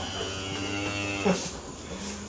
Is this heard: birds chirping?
no